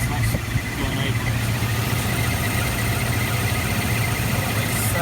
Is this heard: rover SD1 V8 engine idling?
yes